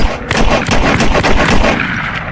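Burst of gunfire in a film scene, rapid overlapping shots fired in quick succession, loud and close, filling the whole moment with sharp cracks.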